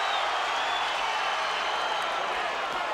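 A boxing crowd stirs and cheers during the Foreman versus Moore fight as Foreman lands punches, a dense, continuous roar of arena noise heard from a distance with no single voice standing out.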